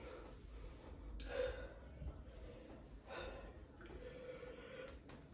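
A tired woman yawns at home, a few long breathy inhales and exhales drawn out close to the listener, with no talk over them.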